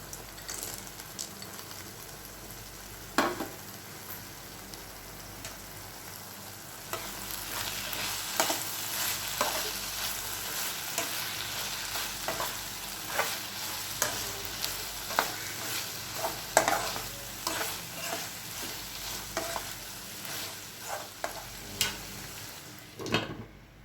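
Peanuts frying together with boiled bitter gourd in a pan, a continuous sizzle with repeated spatula scrapes and taps that grow busier midway, then stop abruptly at the end.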